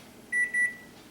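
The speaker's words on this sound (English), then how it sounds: "Okay, that's a timer." Electronic timer beeping indoors during a physics class lecture, two short bright beeps in quick succession, moderately loud against a quiet room.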